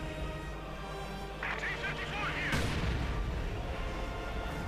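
In Company of Heroes 2, a Puma armored car's 50mm gun fires amid a battle with a T-35 tank, sounding as a sharp boom over dense rumbling combat, with a voice talking throughout.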